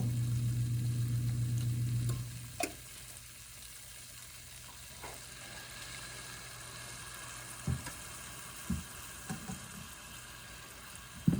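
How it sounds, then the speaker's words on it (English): Risotto is stirred in a pan on the stove: a loud low hum cuts out after two seconds, leaving a soft simmer with a few scraping spoon strokes near the end, no voices. "I'm just going to stir this in and let it soak it all up"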